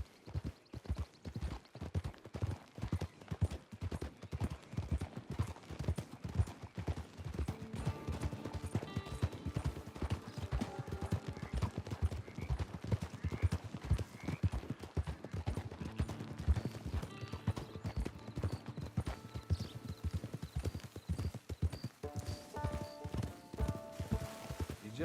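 Horse hooves clip-clopping steadily in Red Dead Redemption 2, a continuous close rhythmic trot with occasional snorts and light background game music.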